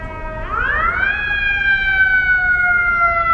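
A wailing emergency vehicle siren sweeps up and holds a steady high tone over low city traffic rumble in Hollywood, Los Angeles, fairly close and loud.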